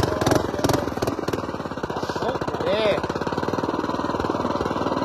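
A custom mini bike engine revs hard while climbing a steep hill, a loud rapid pulsing drone that runs throughout, with people talking over it.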